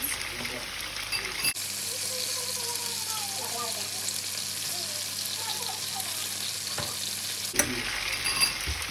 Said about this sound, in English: I am going to add a nice sauce so that it's nice and sticky wings